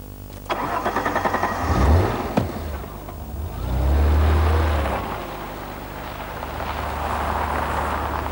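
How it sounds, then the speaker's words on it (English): A 1989 Alfa Romeo V6 with an automatic gearbox cranks and fires up, then blips into a throaty rev that swells and settles toward a steady idle, heard close with no talking. "I've always loved the Alfa V6 unit. It's got a lovely exhaust snarl to it"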